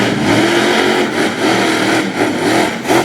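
A monster truck engine revs hard and loud at a 2018 Monster Power show in Honesdale, Pennsylvania, a continuous close throaty roar that surges and eases with the throttle.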